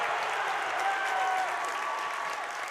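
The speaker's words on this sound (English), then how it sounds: "The crowd is going crazy." High school boys basketball semifinal crowd at Bishop Timon vs. Chaminade roaring and applauding steadily after a foul and made basket, a dense sustained wash of cheering filling the gym.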